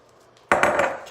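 Chocolate coffee mixture scraped out onto an almond layer for keto dessert bars: quiet lead-in, then a sudden close burst of scraping and clinking of a utensil against a bowl for just over half a second.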